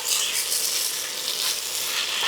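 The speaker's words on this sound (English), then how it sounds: "So we'll saute it for about a minute." Garlic and lentils sauté in a pot, giving a soft, steady hiss of frying that stays even and fairly faint, with no voices.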